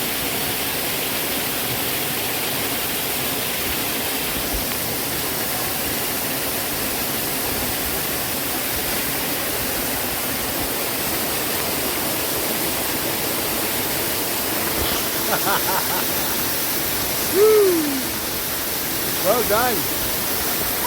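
Constant broadband rush of a waterfall, steady and enveloping throughout, with brief voices and a short exclamation near the end over the falling water.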